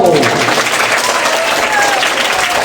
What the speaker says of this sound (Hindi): अपने लिए जोर से ताली बजाओ.